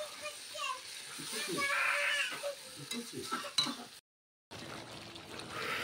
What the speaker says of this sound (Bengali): মাংস কষানো চলছে